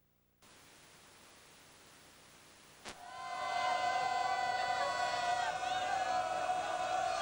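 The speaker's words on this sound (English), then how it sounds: "Jaguar fans, they're cheering their defense on" A crowd of Jaguar fans cheers on their defense at a 2007 Midwest City vs Westmoore high school football game: a steady broadband roar that swells suddenly and stays loud, with sustained horn-like tones over the din.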